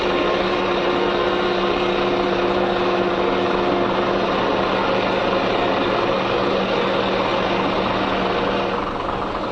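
A diesel Land Rover engine runs steadily while driving a power tool, giving a constant droning hum with a faint rattling texture that stays even and unbroken throughout.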